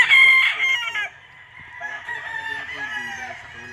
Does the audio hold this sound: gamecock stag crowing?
yes